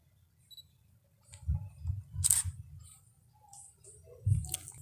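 A camera shutter fires at a 1/50 second shutter speed: a few soft, close mechanical clicks spaced a second or two apart, set against a quiet, low background hum.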